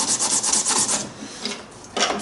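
Sandpaper rubbed by hand across the bottom of wooden Pygmy kayak sponsons to roughen the surface for contact cement, several quick raspy back-and-forth strokes close up, with a short pause before a final burst.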